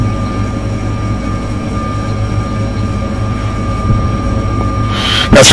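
MISC Prospector mining ship thrusters in Star Citizen hum steadily with a low rumbling drone and faint tonal whine, building to a brief louder burst at the very end.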